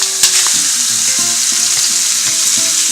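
Pork ribs sizzling loudly in a hot pan, a dense continuous fry with a sharp crackle as the meat hits the oil and faint clinks of handling over the steady hiss.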